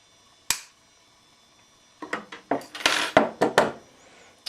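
Cutting fret wire for a guitar fret with cutters gives a sharp single snip, a pause, then a burst of small metallic clicks and handling taps close up.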